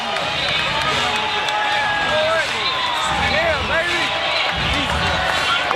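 Crowd at the Floyd Mayweather Jr. versus Sharmba Mitchell boxing match, a dense continuous roar and chatter of the arena audience, loud and steady throughout, with a commentator's voice talking over it.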